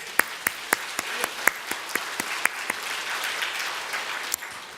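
A church congregation at a Sunday worship service breaks into applause, starting with sharp, distinct hand claps that soon blend into a softer, continuous wash of clapping as the sound thins out toward the end.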